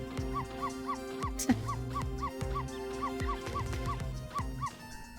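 A dog in the video game Ghost Trick: Phantom Detective barks repeatedly in short, evenly spaced yips over a steady electronic background with tonal beeps.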